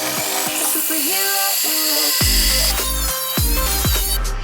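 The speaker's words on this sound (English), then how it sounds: "I threw it back on the drill all the way in the back so I could spin this." A drill spins a carbon fiber ring against sandpaper for shaping, giving whining tones that repeatedly rise and fall and cut out abruptly, loud and close, with no talking.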